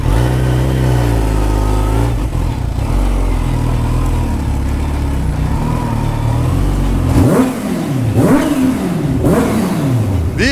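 A Kawasaki Ninja H2 motorcycle engine holds a steady, loud drone, then is blipped in several sharp revving bursts near the end, each climbing and falling quickly up close.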